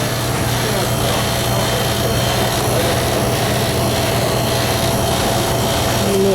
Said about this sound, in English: Yep. Compressor's on.